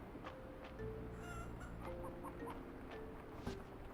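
A chicken in a cozy farming video game clucks softly in short repeated bursts over quiet ambient background, faint and close, with no talking.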